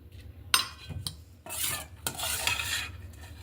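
Candied food scooped out of syrup from a small container, with close wet scraping and stirring strokes, a couple of sharp utensil clinks against the container, and a sizzling, rasping texture, without talk.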